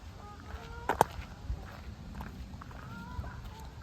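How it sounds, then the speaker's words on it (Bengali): Ducks among a large flock by the water in the German town of Bocholt give scattered honks and quacks, faint and fairly distant, with one sharper call and soft shuffling noises between. "এখানে হাজার হাজার হাঁস রয়েছে,"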